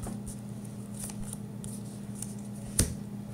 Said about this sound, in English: They'll do false cuts like this, and then they'll come out